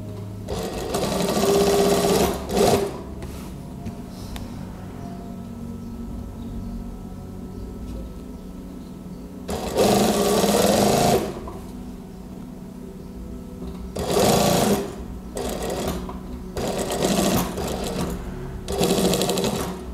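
A sewing machine stitches a gamis cardigan seam at about a 1.5 cm allowance, running in four loud bursts of a few seconds each, separated by quiet pauses with low room hum.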